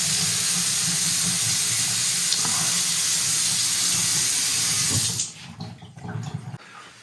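A steady stream of water runs from a newly installed kitchen sink faucet for about five seconds, then shuts off, leaving a few faint drips and clatters.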